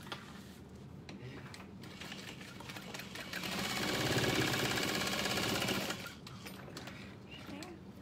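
A sewing machine stitches the side of an Annette satchel in one rapid burst of needle clatter lasting about two and a half seconds, rising louder in the middle, with quieter handling noise before and after.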